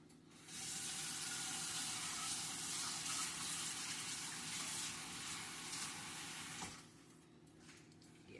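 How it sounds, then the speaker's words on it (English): A kitchen tap runs into a container, collecting water for a pork curry: a steady close splashing stream that starts after a brief pause, flows for about six seconds, then cuts off. "So let me catch some water in here."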